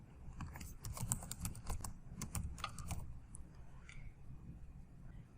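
Typing on a computer keyboard during nursing electronic medical record training, a quick run of clattering keystrokes for about three seconds that then fades into a quiet background.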